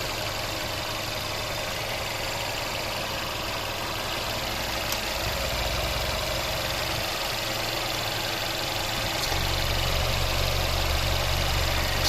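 The 2.0-litre turbo petrol engine of a 2018 Mercedes-AMG CLA idles steadily up close, a smooth, quiet continuous hum and whir with no talking.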